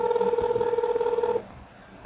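A telephone tone sounds as a steady dual-pitched beep for over a second, then cuts off, leaving quiet line hiss.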